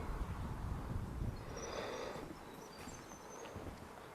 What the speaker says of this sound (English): A little bit windy, but yeah.